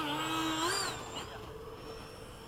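Model A-10 jet aircraft fly in formation at Bayside, giving a thin, high turbine-like whine that bends up and then falls away as they pass, fairly faint against background noise.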